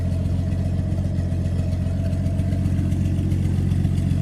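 A 1982 Ford F-150 with the 4.9L inline-six idles on an open exhaust manifold, a loud, steady, close rumble with an even low pulse throughout and no voices.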